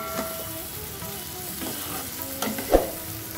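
Spices sizzle and fry in a pan over a lowered gas flame as they are gently stirred for Bengali muri ghonto, a fish head curry, with a steady close hiss and soft scraping touches.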